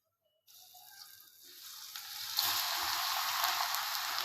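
Okra dropped into hot oil with mustard and cumin seeds in a pan, a soft sizzle that starts suddenly and builds to a steady crackling hiss, close and fairly quiet.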